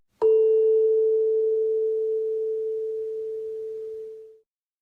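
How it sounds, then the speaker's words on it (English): A pure, steady tone starts with a soft strike and rings alone for about four seconds, slowly fading before cutting off, like a tuning fork. "The waveform of the sound produced by a tuning fork is indeed a sine wave."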